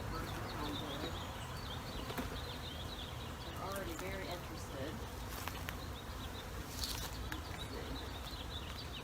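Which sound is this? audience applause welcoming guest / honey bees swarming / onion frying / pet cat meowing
honey bees swarming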